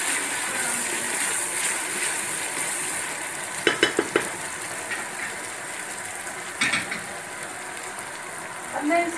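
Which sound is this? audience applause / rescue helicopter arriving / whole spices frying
whole spices frying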